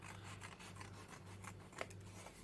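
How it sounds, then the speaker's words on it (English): Small nail scissors snip through paper shapes with faint, scattered clicks and soft rustling, very quiet and close, with a low hum underneath. "I'm using nail scissors."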